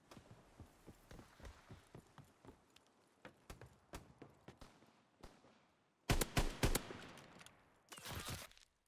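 Gunshots in the video game Call of Duty WW2: a run of sharp shots and steps, then two louder bursts of fire near the end.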